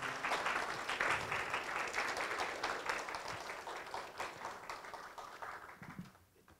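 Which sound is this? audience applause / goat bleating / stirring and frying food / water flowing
audience applause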